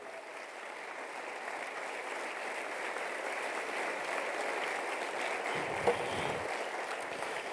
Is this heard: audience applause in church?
yes